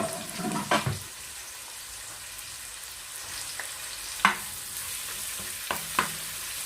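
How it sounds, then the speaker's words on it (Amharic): Chopped red onion frying in oil in a pan for chicken shawarma, a steady soft sizzle broken by a few sharp clinks of a utensil stirring. "የከተፍኩትን ቀይ ሽንኩርት እዚህ ጋር ጨምሬያለሁ። እና አብሬ ጠብስ አደርገዋለሁ።"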